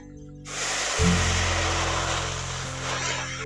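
Water gushes from a tap into a pot of cut potatoes set for boiling, a steady, close rushing pour that starts abruptly after a low background hum.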